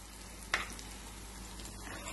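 A tempering sizzles in a pan as turmeric and asafoetida powder go in, giving a steady close frying hiss with one brief crackling burst near the start and no talking.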